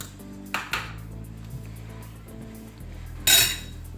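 A metal utensil clinks against a cooking pot while crab soup is stirred: a few sharp clinks near the start and a louder scrape near the end, over a steady low kitchen hum.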